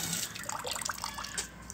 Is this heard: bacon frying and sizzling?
no